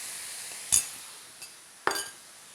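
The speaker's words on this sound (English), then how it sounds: "Oh, hear that sizzle? It's so aromatic." A steady, soft hiss of beef frying in a pan for japchae, broken by two sharp metallic clinks of a utensil against cookware.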